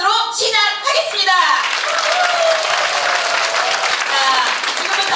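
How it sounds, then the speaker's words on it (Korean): An indoor audience at a business seminar and office-opening event breaks into loud, sustained applause, dense clapping that fills the room after a brief voice at the start. "중동센터 오픈 기념 및 인천, 경기 지역 번역 세미나를 큰 박수로 시작하겠습니다"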